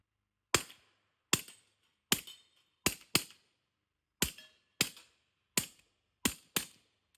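Suppressed subsonic 300 Blackout rounds fired through a Dead Air Sandman S suppressor: nine crisp, muted pops in a quick irregular string with short decays and silence between, no talking.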